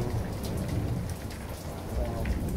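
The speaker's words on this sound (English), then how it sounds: "So as you can see, it's raining." Steady rain falls hard outdoors, a dense continuous hiss of drops with some low rumble beneath, fairly close and without pause.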